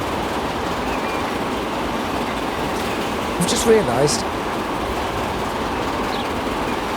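A train running at about 80 mph in Transport Fever 2 gives a steady, loud rolling rumble throughout, with a short burst of speech partway through.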